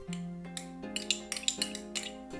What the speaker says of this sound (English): Mix until the sugar is diluted.